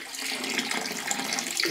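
Pepsi poured from a bottle into a toilet bowl to treat limescale, a steady splashing liquid stream lasting throughout, fairly close and moderately loud with no voices.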